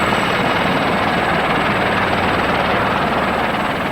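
An army training helicopter flying, a steady, loud, continuous rotor and engine roar throughout with no break and no voices.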